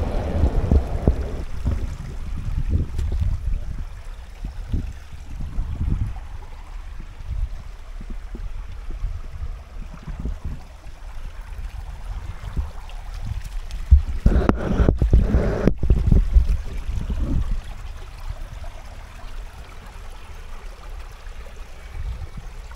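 Water flows through a ravine with a steady rushing, gurgling wash, close and fairly loud, with heavier low surges and buffeting wind noise throughout and no talk.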